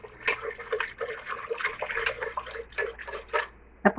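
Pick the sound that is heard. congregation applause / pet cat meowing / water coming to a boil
water coming to a boil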